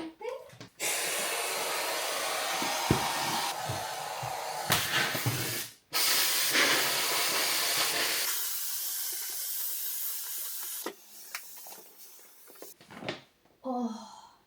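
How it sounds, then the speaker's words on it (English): A handheld steam cleaner hisses loudly in long continuous bursts with brief cut-offs, then drops to quieter sputtering and clicks as someone talks briefly toward the end. "so we're going to try the steamer"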